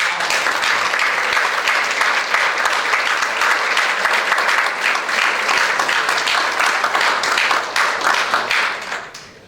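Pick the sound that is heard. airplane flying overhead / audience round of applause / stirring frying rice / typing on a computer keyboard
audience round of applause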